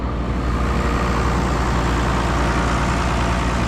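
A Case IH Maxxum 5250 tractor with a snowblower attached runs steadily close by, a loud continuous engine drone mixed with the broad whoosh of the blower, unbroken throughout.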